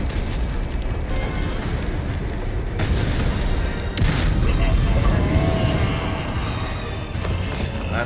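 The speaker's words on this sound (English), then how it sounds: "Special rocket launcher." A rocket launcher fires in the video game Resident Evil 4 Remake, a loud boom with a rumbling blast that swells and lingers over a steady roar of game noise.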